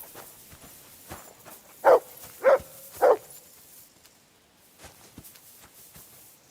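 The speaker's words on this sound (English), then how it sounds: "You silly doggy." Three short, evenly spaced dog barks from a dog in the video game Kingdom Come: Deliverance II, fairly close and loud against a quiet ambient background with faint footstep-like rustles.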